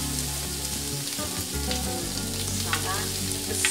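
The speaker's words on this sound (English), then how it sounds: "it's time to grill the lamb chops" Lamb chops sear on a grill pan heated to medium-high, giving a loud, constant crackling sizzle close by, with no voices.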